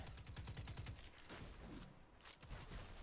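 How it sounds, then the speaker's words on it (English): Weapon fire from the video game Destiny 2 crackles in a rapid burst of shots, followed by heavier irregular reports and mechanical clatter, loud and close with no talk. "if I were to shot this weapon, the shots will be all over"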